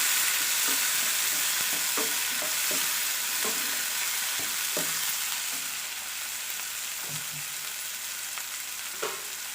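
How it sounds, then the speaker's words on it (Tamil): Tomatoes sauté in a pan for fresh cashew nut poriyal, a constant hissing sizzle broken by repeated scraping stirs of a spatula at an uneven rhythm, close and clear with no talking. "தக்காளியை போட்டு நல்லா இதில் வதக்கிக்கலாம்"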